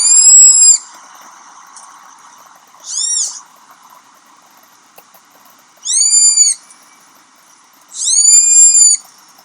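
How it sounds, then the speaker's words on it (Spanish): A baby sloth calls from the wild in a few short high-pitched squeaky bursts, spaced a couple of seconds apart and fairly close, over a faint steady hum of background insects. "ese sonido que estaba ahí es un sonido de un bebé perezoso"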